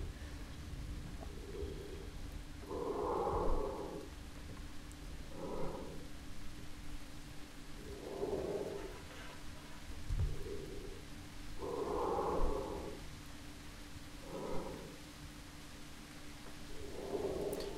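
Heavy, slow breathing in a dark horror game, rhythmic in and out breaths repeating every couple of seconds, close and moderately loud over a low steady hum.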